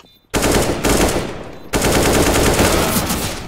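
Automatic gunfire in Counter-Strike: Global Offensive, two loud, close bursts of rapid shots, the first short, the second longer and sustained, with a brief gap between them.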